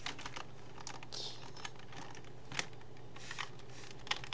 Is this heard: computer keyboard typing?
yes